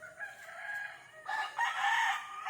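A backyard rooster crows loudly and close by over soft clucking from laying hens, with no voices heard.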